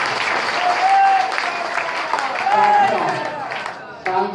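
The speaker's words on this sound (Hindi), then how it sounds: "एक बार जोरदार तालियों से उनका स्वागत करना चाहिए।" Sustained crowd applause welcomes someone at a political party cadre meeting in Thane, Mumbai. The clapping is loud and continuous, with voices heard over it before it tapers near the end.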